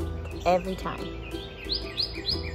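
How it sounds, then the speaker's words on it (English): Birds chirp outdoors, with a series of three quick, bright rising calls in the second half and fainter chirps earlier, set over low background hum while a person briefly speaks. "You hear that? Those birds remind me of freedom"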